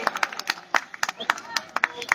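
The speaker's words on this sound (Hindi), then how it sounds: "तो जोरदार तालियां हमारे सभी कलाकारों के लिए" Sparse, uneven clapping from a small group rings out at an inauguration ceremony for Jharokha at Dilli Haat, New Delhi, with distinct individual claps under light talk.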